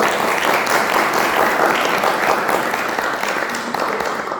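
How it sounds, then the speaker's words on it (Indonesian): A group at a school counselling session claps together in a loud, dense burst of applause that stays steady throughout, close and filling the room. "tepuk tangan untuk kita semua"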